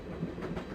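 A train rolls along in the Broken Sword adventure game as a low, muffled rumble with soft rhythmic clatter, steady and fairly quiet throughout.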